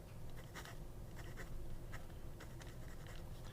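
Hongdian C1 fountain pen with an extra fine hooded plastic nib scratching across paper, soft steady scribbling strokes with brief louder flicks, close and quiet with no voices.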